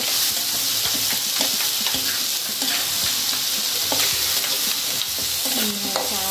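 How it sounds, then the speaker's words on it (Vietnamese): Pineapple stir-fried in a hot pan, a steady loud sizzle broken by repeated scrapes and clinks of a utensil stirring the fruit, with no talking. "xào thơm này cho nó thơm lên là được rồi, không cần phải xào chín"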